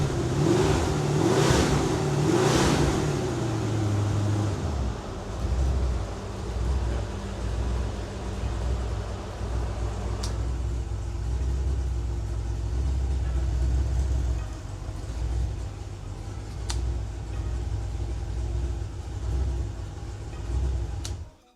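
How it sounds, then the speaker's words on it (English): A warmed-up Ford 302ci V8 runs steadily on a stand, opening with a few brief revs before settling into a loud, deep, even idle that continues for a long stretch. "So yeah, great little motor."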